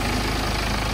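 Close, loud, steady idle of a BMW X1 2.0 diesel xDrive engine, an even unbroken rumble with no voices over it.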